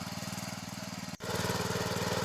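A tractor-mounted rotavator churns through a muddy, waterlogged field, its rotor turning with a steady, loud, pulsing mechanical drone and a brief dip partway through, with no talk.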